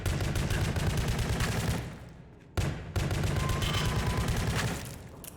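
Sustained rapid gunfire from a shooter video game, two long dense bursts separated by a short lull, loud and continuous.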